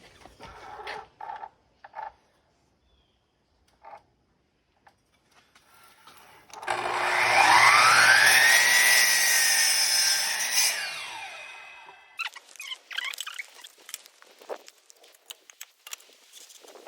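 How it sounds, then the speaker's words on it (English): A miter saw spins up and bites through a wooden piece for a project cart, a loud rising whine and cut lasting about four seconds, then winding down, framed by quiet workshop knocks and handling clatter. "just using a miter saw, as you see I'm doing here"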